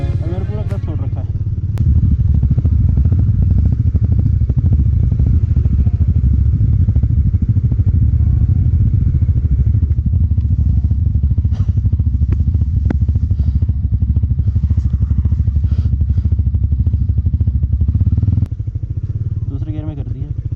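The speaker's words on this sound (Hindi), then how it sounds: "ऐसे चलानी है बाइक इतनी बर्फ में।" Motorbike ridden slowly in second gear through deep snow in the Spiti Valley in winter, its engine a steady close low rumble with clattering, while a rider talks over it throughout.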